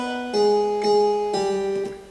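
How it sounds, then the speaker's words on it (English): A simple harpsichord melody played in Logic, a few plucked notes with bright ringing overtones, each attack clear and sustained, alone and close. "So I found this harpsichord and I played this really simple"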